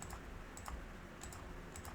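Soft clicks of a computer mouse in a quiet room, several separate clicks spaced unevenly, some in quick pairs, close and faint.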